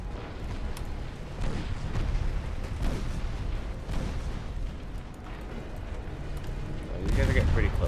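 Warship guns firing during a fleet engagement in Ultimate Admiral Dreadnoughts, with repeated heavy booms and a continuous low rumble of naval battle and a louder salvo near the end, while someone speaks over it.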